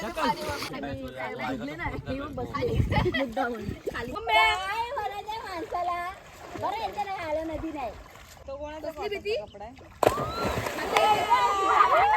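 Water splashes at a village river in Konkan as a family swims and washes clothes, with irregular sloshing and splatter under nearly constant talking and children's voices.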